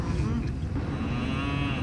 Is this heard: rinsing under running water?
no